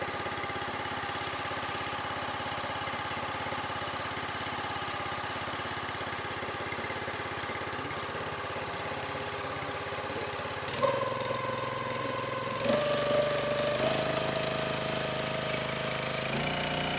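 The petrol engine on a DIY log-splitter kit idles steadily at its factory-set speed with a continuous mid-pitched hum, then its tone shifts and rises slightly partway through as the running settles.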